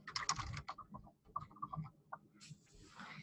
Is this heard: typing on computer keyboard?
yes